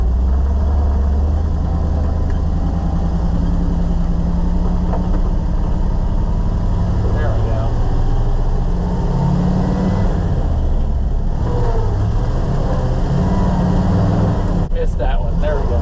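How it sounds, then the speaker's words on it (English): A loaded truck pulls out from a farm spot during a bean harvest, its engine rumbling low and steady throughout with shifts in pitch as it works, a voice talking over it now and then. "Never pulled out of here with this truck before loaded."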